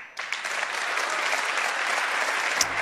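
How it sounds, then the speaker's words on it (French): A keynote audience at an Apple product launch for the Apple Watch and Retina MacBook breaks into sudden applause that swells quickly and holds as a dense, steady clapping roar. "Ça applaudit, hein?"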